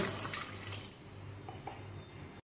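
Water poured into a pressure cooker of red lentils seasoned with salt, turmeric and chili powder, a soft splashing pour for about two seconds that then stops abruptly.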